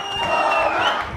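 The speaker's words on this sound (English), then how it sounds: "The crowd here is ecstatic." Ecstatic crowd cheering and shouting at a New York City mayoral election night event, a dense, sustained roar of many voices with whoops rising throughout.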